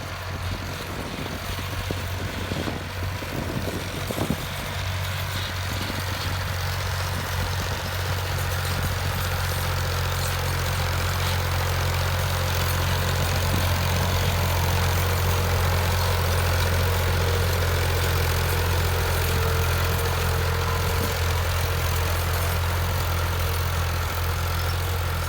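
Alghazi tractor engine pulling a heavy 18-disc harrow, a steady low diesel drone with a strong deep hum that holds constant for the whole span, close and loud, with a little clattering early on and no speech.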